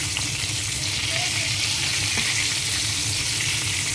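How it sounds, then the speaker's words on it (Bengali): Chicken legs fry in hot oil for a crispy chicken fry, giving a steady, dense sizzle that runs unbroken throughout, close and fairly loud with no talking. "উল্টে পাল্টে ফ্রাই করে নিতে হবে।"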